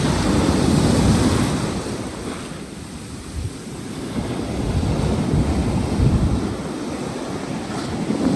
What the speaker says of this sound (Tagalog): Kasi, lakas ng alon.